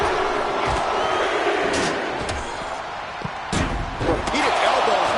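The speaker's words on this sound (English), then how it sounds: "Repeated elbows to the lower back." In a WWE 2K25 wrestling game, several dull impacts thud in turn over a constant arena crowd roar, with commentary talking throughout.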